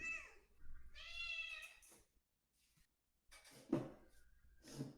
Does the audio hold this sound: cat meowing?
yes